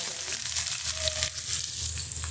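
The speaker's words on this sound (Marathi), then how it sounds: "एक छोटा कांदा कापून घेतला तो टाकतो" Chopped onion hits hot oil already seasoned with cumin and coriander powder while cooking a spicy okra dish, and the pan gives a loud, steady close sizzle with no talking.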